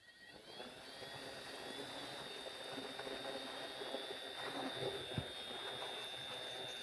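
Motors of a 13-inch FPV drone run at full throttle, a continuous high whine over broad airy hiss. The sound is fairly faint and steady, swelling slightly toward the end with a brief knock.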